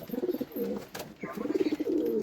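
A fancy pigeon coos close by in soft, throaty, rolling bursts, two long phrases separated by a short pause with a brief click between.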